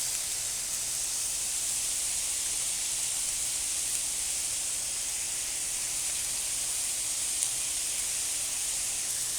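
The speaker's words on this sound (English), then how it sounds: "We're gonna let this grill on one side for a few minutes" A steak grills on a LoCo griddle, producing an even, unbroken hiss of sizzling fat that holds at constant loudness with no talk over it.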